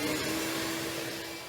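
Vacuum cleaner sucking up loose debris from the engine bay of a 1995 Pontiac Firebird Trans Am, a steady close whining roar with no pauses.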